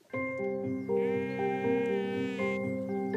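Salt-meadow sheep grazing on the tidal flats of the Mont-Saint-Michel bay bleat in a long, wavering, fairly close call that runs for about three seconds with no talk over it.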